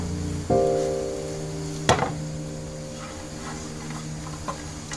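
Dried injinho (sacheol-ssuk mugwort) herb stir-roasted in a pan: close, soft dry rustling and scraping, with one sharp knock partway through, over a steady low humming drone, with no voices.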